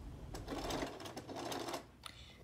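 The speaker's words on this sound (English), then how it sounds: "here I've got my panel in my sewing machine, and you just sew straight down behind your double pinch pleat" A sewing machine stitches straight down behind a double pinch pleat on a curtain panel, a steady close mechanical whirr that runs almost throughout, with a brief pause before a final short burst.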